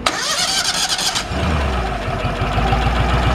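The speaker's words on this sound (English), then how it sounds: "So we're going to just go ahead and crank it." An Amtex Inferno 2545 engine with a top filtration box cranks with a quick whirring starter, then catches and settles into a steady, rhythmic mid-pitched idle that runs loud and close for the rest of the clip.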